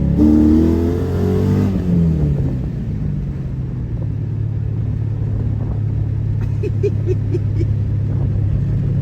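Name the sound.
fourth-generation Pontiac Trans Am accelerating hard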